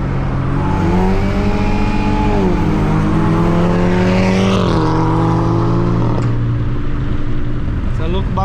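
A tuned car, a BMW 320 stage 2 or a VW Up TSI stage 3, revs hard through rising engine pitches with a gear shift partway, loud and close, then eases off, with voices mixed in.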